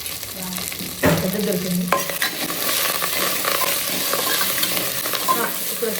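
Coriander, mint and split green chillies frying in a pan for coconut milk pulao, a loud continuous sizzle with a thump of ingredients dropping in and occasional stirring clatter; a brief voice is heard.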